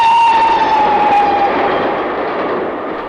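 Train in motion in a horror film, a steady rumbling roar with a long high whistle-like tone that fades out partway, the whole sound slowly receding and growing quieter.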